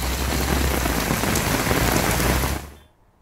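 Heavy rain pours down in Bengaluru, a dense, loud hiss of drops drumming on surfaces that holds steady, then fades away near the end.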